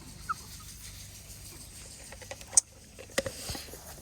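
Backyard hens with a few faint, scattered clucks and squawks over a quiet outdoor background, one sharper call near the end.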